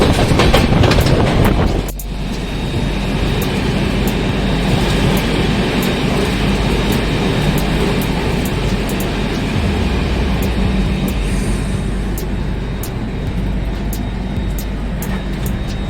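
A passenger train rolls toward New Delhi near Anand Vihar, giving a loud, steady rumble and roar from on board with faint rhythmic clicks, a sharp shift in the noise early on and no voices.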